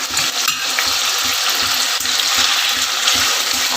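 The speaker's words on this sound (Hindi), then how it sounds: "हम दूसरी तरफ इस तरह से तेल को गरम करने के लिए रख लिया है। और अब मैं इसके अंदर ये कटे हुए आलू जो हैं उनको डाल देती हूँ" Cut potatoes frying in hot oil give off a loud, continuous sizzle, with a steady series of soft low thumps from stirring underneath.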